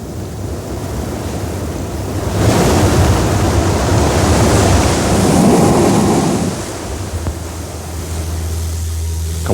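Ocean waves rushing under a lava shelf on Kauai and bursting up through a blowhole, a loud, close roaring surge of spray that swells and then falls back to a steady wash of surf and wind.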